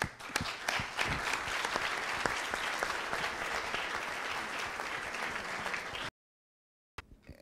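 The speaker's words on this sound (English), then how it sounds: "we need just to have clap for them" Audience at a scout forum clapping, a dense, steady burst of applause with sharp individual claps standing out, running about six seconds before cutting off abruptly, followed by a brief silence and a short return.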